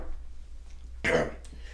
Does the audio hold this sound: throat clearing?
yes